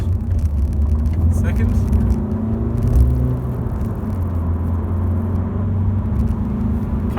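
A Honda Civic 1.6 i-DTEC diesel sedan climbs a hill at about 100 km/h, its engine and road noise a steady low rumble with a slight shift in pitch as gears change, under someone talking.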